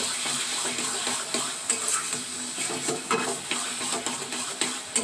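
Spoon stirring sugar in circles through a vegetarian taro leaf (kochu shak) dish in a pan, a steady soft scraping with light sizzling and occasional clinks.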